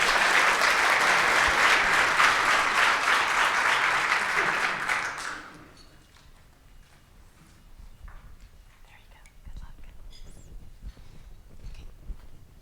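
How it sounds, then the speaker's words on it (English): Audience applause fills a hall for a high school sophomore stepping up at a Rotary Four-Way Test speech contest, loud dense clapping for about five seconds before fading into quiet room murmur and faint shuffling. "Give her an applause."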